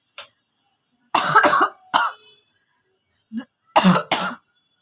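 Several sharp coughs come in separate bursts with quiet pauses between them, close and fairly loud, one a softer throat-clearing sound.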